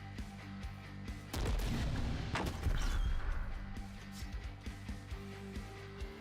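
Mortar fire in the strategy game The Last Spell, a few heavy thuds and crashing impacts in the middle of the clip over a steady background music bed, moderately loud.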